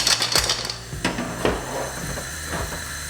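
A lidded pan of mussels steaming in wine is shaken on the stove, giving a few sharp metallic clatters and rattles over a soft background hiss.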